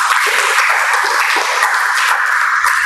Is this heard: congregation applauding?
yes